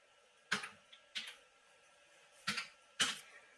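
Keys are tapped on a computer keyboard while a captcha is entered on a voter list website, with four sharp, separate clicks spaced unevenly over a quiet hum.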